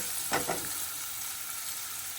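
Onion frying in oil in a pan, a steady soft sizzle with a brief brighter crackle early on as it goes in, heard alone at close range.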